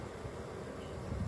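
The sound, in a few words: swarm of bees buzzing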